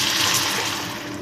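Coconut milk poured into a hot pan, a close, steady liquid gush and splash that stays even for the whole brief moment.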